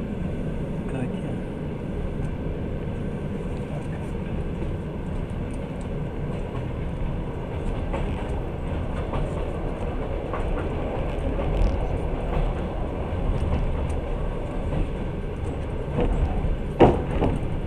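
A passenger train between Novosibirsk and Moscow, heard from inside the carriage as a steady low rumble with faint rail clatter throughout and a sharp click near the end.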